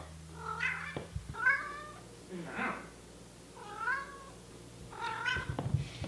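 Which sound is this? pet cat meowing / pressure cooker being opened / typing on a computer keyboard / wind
pet cat meowing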